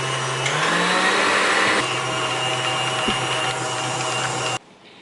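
Electric stand mixer whipping homemade marshmallow on high speed, a loud steady motor whir that runs continuously and then cuts off abruptly near the end.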